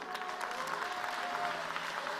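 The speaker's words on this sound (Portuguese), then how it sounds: "As palmas são para Jesus." Church congregation applauding, a brief burst of steady, fairly distant clapping from many hands.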